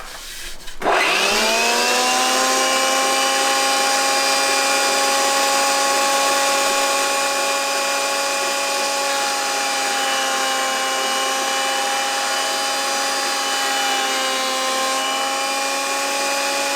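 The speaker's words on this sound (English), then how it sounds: "I'll run that back through the planer thicknesser just to get all this old glue marks off" A planer thicknesser starts up and runs through old wood to strip off glue marks, giving a loud, sustained whining roar with a steady tonal hum and no pauses.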